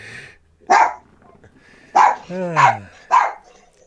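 A pet dog barks in a home during an online conversation, four sharp separate barks spaced over a few seconds, one drawn out into a short whine-like yelp, fairly close and loud against quiet.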